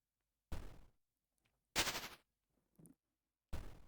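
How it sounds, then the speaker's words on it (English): Fireballs explode in a GDevelop video game as four sharp, punchy bursts separated by silences, each one loud and decaying quickly, with a smaller pop between the second and last blasts. "They're exploding."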